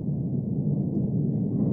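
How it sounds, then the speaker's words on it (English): A slowed-down car crash in the BeamNG.drive driving game comes through as a continuous deep, muffled rumble, steady and fairly loud for its short length, with no voices. "Let's observe the car crash."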